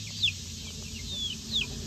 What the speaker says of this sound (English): You better not be an old rooster.